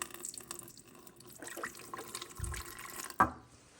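Water poured into a filter coffee machine, about 75 ml: a soft trickling splash with a few drips and a sharp clink near the end, quiet and close.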